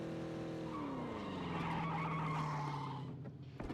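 Tires squeal in a long skid as a car slides in a video game, the screech loud and sustained with engine tone beneath it for most of the few seconds before trailing off.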